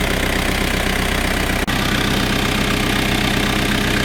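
A modified engine idles steadily on diesel fuel during an engine flush, a dense, continuous mid-pitched rumble with faint knocking that breaks for an instant partway through before carrying on, with no voices.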